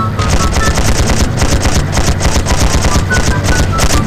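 Continuous, loud automatic gunfire from Battlefield 1, a World War I shooter game, with rapid bursts of shots layered over a dense battle din for the full length, no speech present.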